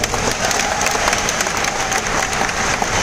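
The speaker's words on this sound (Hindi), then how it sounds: "एक गाइस शर्मा जी का ताली बजा दो यार।" A live training-seminar audience in Delhi breaks into dense, steady applause for Sharma ji, loud and close, many hands clapping continuously with no talking.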